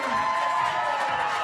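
A crowd at the Steel Town Throw Down USA Climbing national cup event cheers and roars steadily after a big dyno, a dense, continuous wash of voices and shouts throughout.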